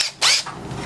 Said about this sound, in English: I've got it clamped down so it doesn't move when I drill these holes